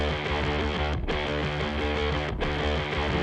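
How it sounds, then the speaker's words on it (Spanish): A heavily distorted, saturated bass riff plays with driving drums and no other instruments, thick and continuous, briefly cutting out twice. "hay un bajo con distorsión, un buen saturador, solamente bajo y batería"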